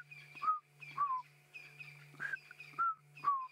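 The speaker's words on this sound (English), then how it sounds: "I can hear some chinspot battises" Chinspot batis birds in the bush at sunset giving repeated short chattering call notes, about five spaced phrases at moderate distance over a faint low hum, with no talking.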